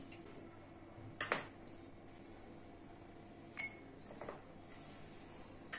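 A spoon clinks against a bowl a few times as small amounts of water are added to jaggery while making thekua dough, with sharp isolated taps over a quiet background.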